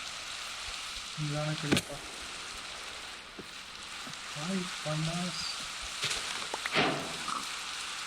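Steady hiss of rain falling in the Minecraft video game, continuous and moderate, with people talking over it at intervals.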